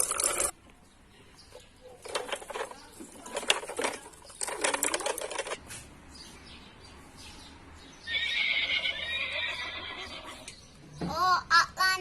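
Horses neigh at a zoo in a children's cartoon. A whinny rises near the end, after stretches of busy rattling, clattering noise and a brief higher squeal.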